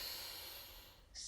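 A single slow breath drawn in through the nose during a calm relaxation practice, soft and close with a steady airy hiss.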